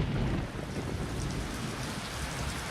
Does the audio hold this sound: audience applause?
no